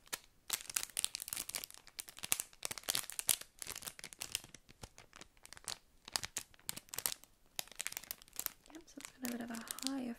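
Plastic is crinkled and crumpled right up close in a steady stream of sharp, crackly bursts with brief pauses, and a soft voice speaks briefly near the end.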